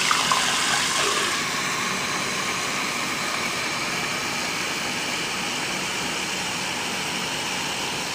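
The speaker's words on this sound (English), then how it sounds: "I'm going to cover it with cold water" Steady gushing of cold running water filling a pot, loud and continuous, with a slightly brighter splash at the start.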